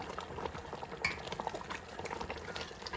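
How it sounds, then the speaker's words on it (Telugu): Grated raw mango murabba bubbles as it boils in a pan, soft close popping and simmering with a brief stir or clink partway through, quiet and without speech. "ఇలా బబుల్స్ బబుల్స్గా వస్తే కానీ అందులో ఉండే వాటర్ కాంటెంట్ అంతా పోదనమాట"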